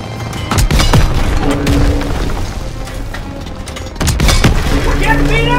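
A German Panzer tank blows up in Call of Duty WW2 combat, with two heavy, loud booms about three seconds apart over rumbling battle noise, and voices shouting in the mix.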